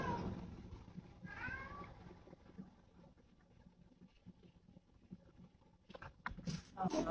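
A cat gives a short meow at close range, then soft pattering and faint rustling follow, with a few brief sharp noises near the end.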